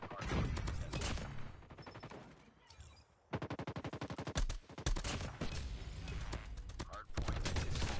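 Bursts of rapid gunfire from a three-round tap gun in the mobile shooter COD Mobile, loud, close and repeating in clusters, with short gaps between volleys.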